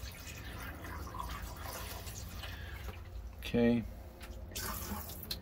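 Water runs from a tap into the sink drain of a 2023 Winnebago Solis 59PX RV during winterizing, a steady close splashing flow with a brief louder gush, under a man's short spoken remark.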